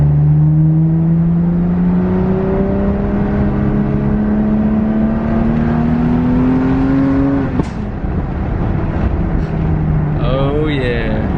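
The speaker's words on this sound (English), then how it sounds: "Car sounds amazing." A BMW F80 M3 engine revs up with a rising exhaust note through an equal-length mid pipe, then drops briefly and revs again, loud and close.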